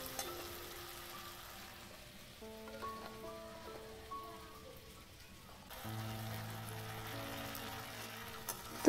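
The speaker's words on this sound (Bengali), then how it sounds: "তো ভালো করে আমি এটাকে ভেজে নেব।" Mustard and poppy seed paste seasoned with turmeric and salt fries in a pan for a Bengali hilsa dish, giving a steady soft crackle and sizzle with faint stirring, with no voices.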